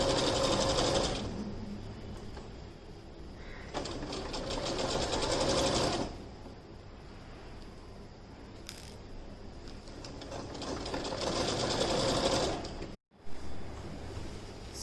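A sewing machine stitches an apron, running the armhole-to-armhole seam. Two long, loud whirring runs of stitching come close up, separated by a quieter pause, and a short clunk is heard near the end.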